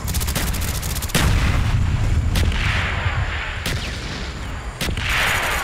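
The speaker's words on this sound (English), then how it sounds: "Mortar coordinates received, firing for effect." Mortar rounds from a Call of Duty Black Ops strike in a jungle Demolition match: several loud, sharp blasts spaced about a second apart, each with a rumbling tail and no talk.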